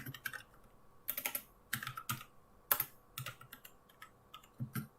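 C++ code being typed on a computer keyboard in quiet bursts of key clicks, with a few short pauses between runs of taps, close and fairly soft.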